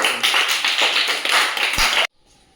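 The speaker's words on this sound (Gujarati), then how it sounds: "તાળીઓ બજાવ તાળીઓ" A small group claps hands for a challenge winner, rapid close clapping lasting about two seconds before stopping abruptly into near silence.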